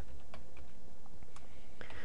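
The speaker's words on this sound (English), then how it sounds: "let's keep typing it just in case" Keys clatter on a computer keyboard in a few short bursts of typing, close and fairly quiet, with steady low background hum and no talk.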